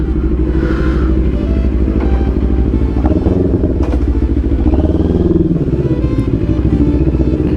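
A Yamaha MT-10 motorcycle idles close by as its engine warms up after a muddy rain ride, a loud steady throbbing rumble with light mechanical clatter throughout.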